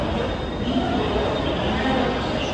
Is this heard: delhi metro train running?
yes